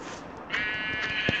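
A Minecraft sheep bleats once, a clear, drawn-out electronic baa rising from quiet game ambience about a third of the way in and holding steady to the end.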